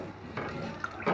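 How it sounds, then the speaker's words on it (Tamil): Water pours into a cooking pot for coconut rice, a brief soft splash and trickle close by that ends in a slightly louder gush. "நான் இதில் இன்னொரு 1/2 கோல் தண்ணி ஊற்றுறேன்"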